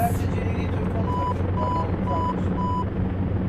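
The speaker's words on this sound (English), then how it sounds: "That beeping noise was just the autopilot." Repeated electronic autopilot beeps in a Flight Simulator X Vickers Vimy sound at a steady rhythm over a constant engine drone, about four evenly spaced tones after a brief burst of noise.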